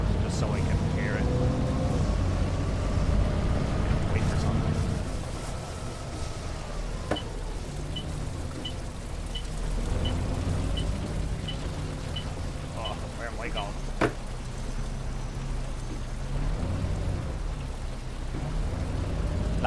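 Rain hisses around a bus driving along a road in OMSI 2 as its engine drones and shifts in pitch, with a run of evenly spaced ticks and a few scattered knocks and clicks.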